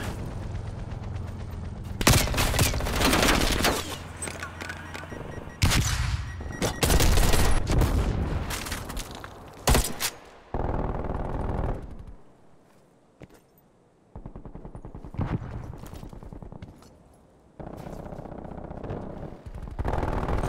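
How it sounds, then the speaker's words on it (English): Sentry turret machine gun fire in the Call of Duty Black Ops Cold War video game, loud rapid bursts of automatic gunfire with booms, several pauses and sharp shots continuing intermittently throughout. "Sentry turrets working your AO."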